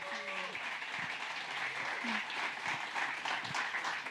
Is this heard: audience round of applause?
yes